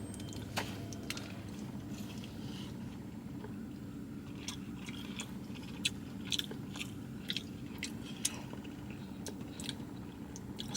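Crisp, close bites and crunchy chewing of a crispy fried chicken tender, with sharp crackling bursts scattered over a steady quiet background.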